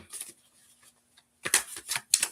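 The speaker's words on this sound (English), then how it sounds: "I'm going to just move these over because I need room to shuffle." Tarot cards shuffled by hand in quick riffling bursts, a few soft flutters early then louder, close bursts near the end, with quiet pauses between.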